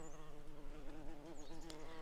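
A bee buzzes steadily and faintly in a gentle children's bedtime story about a pond, a continuous droning hum with slight wavering in pitch.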